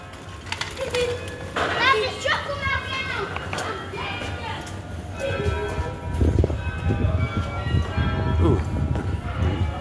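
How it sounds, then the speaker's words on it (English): Bells ding repeatedly in bright, ringing strikes with lingering tones, mixed with children's voices and chatter in a lively outdoor setting. "Dinging the bells for us."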